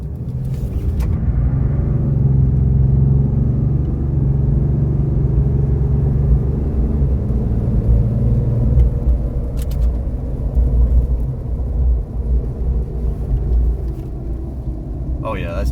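A car with an Edge EZX+INSIGHT CTS3 tuning kit accelerating hard from a standstill, a loud, steady engine rumble and road roar that holds for the whole stretch, with people talking faintly underneath.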